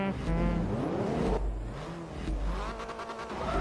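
A Porsche Turbo racing in Forza Motorsport 3 on a Class D European circuit, its engine droning loud and steady throughout, revving up, then dipping briefly before climbing again with shifting pitch.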